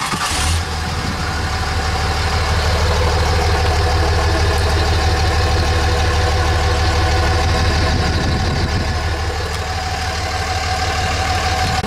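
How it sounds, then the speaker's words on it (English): A Cummins diesel truck engine idles on its stock exhaust, a steady, loud low rumble with a constant pulsing throb that holds unchanged throughout, with no talking over it. "So let's hear how it sounds stock."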